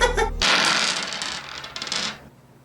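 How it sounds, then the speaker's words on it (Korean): Six dice are thrown during a Yu-Gi-Oh duel, a bright rattling clatter as they tumble together for about two seconds and then settle to silence. "주사위 6개를 던져서 나온 수 합계 34."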